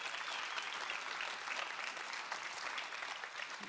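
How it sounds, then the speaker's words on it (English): Audience applause for a panel of baseball guests, including players and umpires, at a church event; steady, fairly distant clapping from a full room, continuous and even for the whole stretch. "let's put our hands together for Brian Hummel, Alfonso Marquez, Ted Barrett, Pastor Nick Ahmed, and Robbie Ray"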